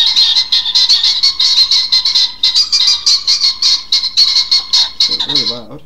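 Poultry in TerraFirmaCraft squawking over and over in fast, shrill, rhythmic bursts, loud and close, with a brief bit of speech at the very end.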